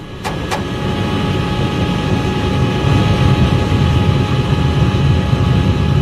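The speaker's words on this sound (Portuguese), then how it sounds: "Nós tentamos analisar o som dos motores." Steady low aircraft engine drone on a cockpit recording fills the clip, a continuous mechanical hum with a couple of brief clicks near the start.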